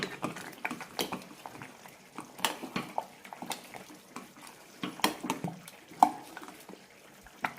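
Kalan curry is stirred after roasted fenugreek powder is added, producing soft, irregular spoon scrapes and clinks against the pot along with faint liquid movement, close by and quiet, with no talk.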